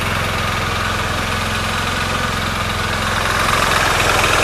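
A Honda Beat motorcycle with a carburetor engine runs close and loud, a steady buzzing drone with a slight rise in revs toward the end and no voices.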